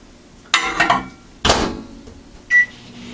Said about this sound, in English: 30 seconds in the microwave.